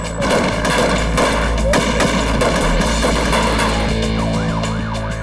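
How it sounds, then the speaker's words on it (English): Gunfire as heavily armed kidnappers open fire on two police officers during a botched takedown, loud sustained shots in dense clustered bursts with a wailing siren-like tone running through, no talk. "The heavily armed kidnappers see only the 2 officers and open fire."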